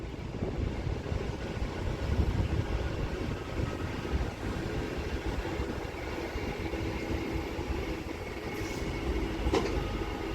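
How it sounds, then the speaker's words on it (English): A Manchester Metrolink tram rumbles steadily past at close range near Manchester Airport, a continuous low rolling drone with faint squeals and clicks from the track, no voices. "It's another Manchester Metrolink tram."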